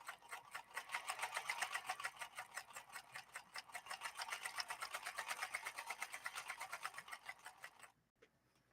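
A 1958 Singer 222K sewing machine runs steadily at a quick stitching pace for about eight seconds, its fast regular needle rhythm loud and close, then stops abruptly into near silence.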